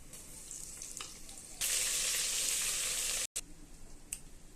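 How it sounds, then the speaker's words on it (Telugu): Ginger garlic paste drops into hot oil and sets off a sudden loud, bright sizzle lasting a couple of seconds, then a brief cut, before a quieter crackle with a few sharp pops continues. "అల్లం వెల్లుల్లి పేస్ట్ వేసుకుందాం."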